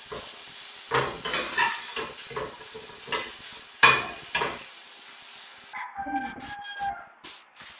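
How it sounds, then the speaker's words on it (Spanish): Garlic and onion fry in a pan while a utensil stirs them, producing a series of scraping, clattering strokes over a light sizzle. The sizzle turns brighter and hissier near the end. "Cuando ya casi está la cebolla, le echo el ajo, porque el ajo se cose rápido, se quema"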